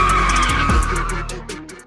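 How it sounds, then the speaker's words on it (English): A BMW M5 drifting on worn tires gives off a loud, close tire skid and squeal with engine roar that swells, then gradually fades over under two seconds. "So as long as the engine temperature stay in check, I can keep drifting."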